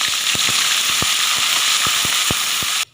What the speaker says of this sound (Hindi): देखिए व्यूअर्स 2-3 मिनट हो चुके हैं प्याज फ्राई के को